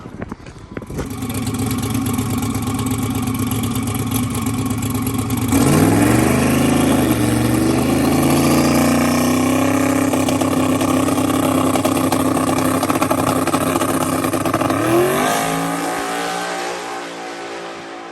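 A drag racing car revs and launches down the track, its loud engine climbing in pitch through gear changes for about ten seconds before easing off, heard up close.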